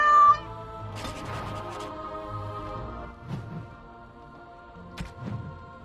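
A cat meows several times in the Dragon Age Origins video game, clear close calls spaced across the stretch with a few soft thumps between them.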